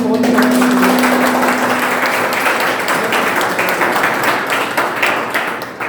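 Loud audience applause at an indoor business presentation, dense clapping sustained throughout and tapering slightly at the end, with a voice trailing off at the start.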